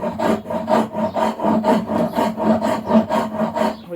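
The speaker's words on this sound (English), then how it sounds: "we're going to use this rasp" A hand rasp files a piece of driftwood clamped in a vise for a Native flute, giving about eight even, rhythmic scraping strokes, close and loud, with no talk.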